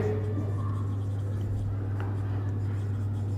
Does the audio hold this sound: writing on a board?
yes